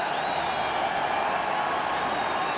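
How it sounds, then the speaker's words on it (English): A crowd cheers at a cricket ground as a side's total reaches 100: a broad, steady roar with some applause that carries across the stands for a few seconds. "Big cheer around the ground."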